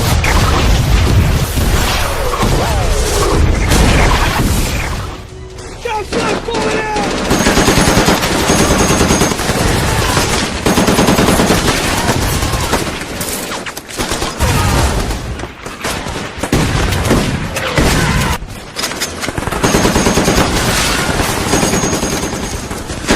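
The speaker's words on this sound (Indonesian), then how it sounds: "tiba-tiba di luar sana baku tembak terjadi" Machine gun fire in a World War II Pacific battle: loud, dense bursts of rapid automatic gunfire mixed with booming blasts, nearly continuous with brief lulls.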